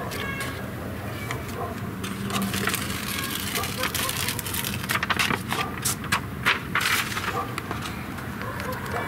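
Blueskin membrane backing is peeled away during a window install on a tiny house build. It makes a crackling, papery tearing sound with sharp, irregular snaps that continue close by for several seconds.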